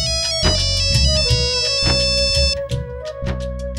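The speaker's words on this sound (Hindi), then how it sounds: "अननोन नंबर से फोन है" A mobile phone rings with a loud electronic ringtone for an incoming call from an unknown number, a repeating melodic pattern of sharp tones pulsing steadily with no voices over it.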